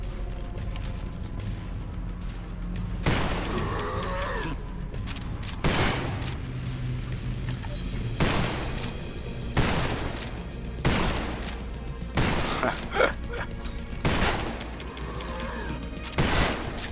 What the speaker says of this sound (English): I'm going to use this shotgun here.